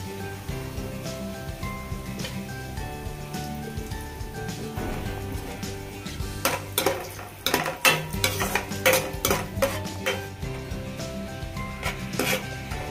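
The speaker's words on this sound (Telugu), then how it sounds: "ఇప్పుడు నేను బాదం ముక్కలు వేసి వేయించుతున్నానండి." Almond pieces fry in a pan while being stirred for a sweet sheer kurma, a steady low sizzle under scraping and clinking of a utensil against the pan that grows busier midway.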